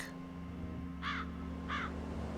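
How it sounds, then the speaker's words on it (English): A crow in the video game The Lost Crown gives two distinct caws about half a second apart over a low, steady game ambience. "The crow flew away, and now the crow's back."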